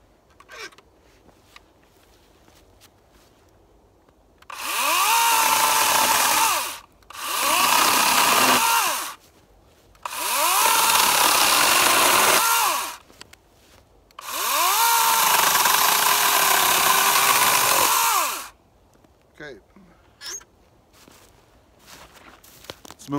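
A SunJoe ION16CS 40-volt battery chainsaw cutting through small limbs in four loud, sustained bursts of whining motor and chain noise, separated by short pauses and faint footsteps.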